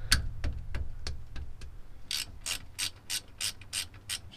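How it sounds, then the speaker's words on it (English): Hand ratchet loosening 14 mm differential cover bolts on a Nissan 350Z, a close run of quick clicking pawl ticks, slow at first then a faster regular burst of louder clicks, with no talk. "take a 14 millimeter and take off these two diff cover bolts."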